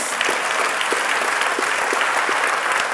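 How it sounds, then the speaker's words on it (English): A seated audience at an on-stage conversation breaks into warm applause, a steady, full burst of many hands clapping close together for a few seconds. "And that's got to get a round of applause"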